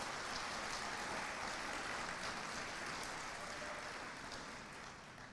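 Graduation audience applauding at a 2015 high school commencement, a dense steady wash of clapping hands that holds for several seconds and tapers slightly at the end, with no voices over it.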